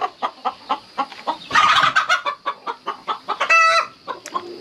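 Hens cluck near a nest on a warm summer evening, a close run of short rhythmic clucks with a couple of louder squawking bursts and a brief higher cackle.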